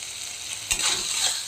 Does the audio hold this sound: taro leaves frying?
yes